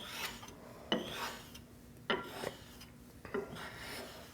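Jointer and planer knife being honed on a sharpening stone, soft rasping strokes of steel across the stone in a slow, uneven rhythm, with sharper scrapes at about one-second intervals, quiet and close.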